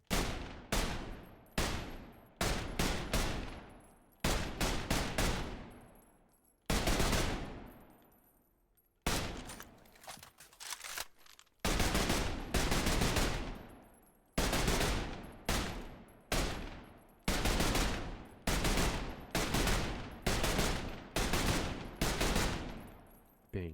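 Bursts of rapid gunfire from the first-person shooter Trepang2 ring out loud and close, coming in repeated volleys separated by short gaps, with long sustained strings of shots and sharp single cracks.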